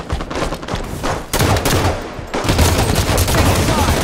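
Rapid automatic gunfire in the Halo 5 Arena Strongholds match on Stasis, loud and dense bursts of rattling shots with a short gap partway through before firing resumes heavily.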